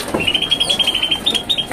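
A songbird at a bird market gives a rapid series of high, thin chirps in a steady run, fairly close, over a busy background hum.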